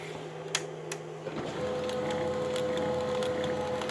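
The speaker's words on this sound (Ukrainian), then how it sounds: "максимальне навантаження, підключаємо принтер." A printer powered through a LVYUAN 2000W 12V-220V inverter whirs with a steady electronic whine that rises in pitch and holds once the load kicks in, joined by faint clicks and mechanical rattling.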